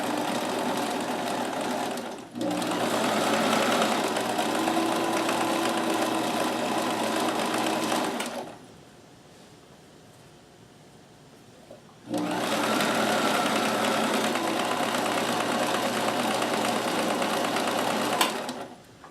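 A Kenmore 158.1914 sewing machine runs a stretch stitch on knit fabric, its motor whirring loud and steady for several seconds, pausing briefly, then starting up again at the same even pace.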